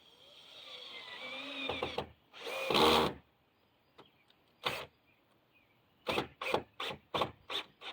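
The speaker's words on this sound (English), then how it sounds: "I'm going to put some more screws in this thing to beef it up." Power drill driving screws into an old red shed during restoration: a long whirring run, a dense burst around the middle, then a quick series of six short, close bursts with quiet gaps between.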